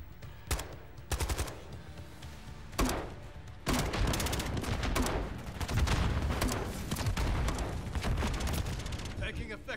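Shooter video game combat with bursts of automatic gunfire and dense volleys building into sustained, loud shooting, with a voice speaking under the shots.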